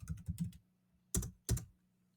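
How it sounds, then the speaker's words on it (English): Typing on a computer keyboard while writing HTML code, with a quick run of close, crisp keystrokes followed after a pause by two louder separate key presses, no talking. "so I'm going to type in a header element."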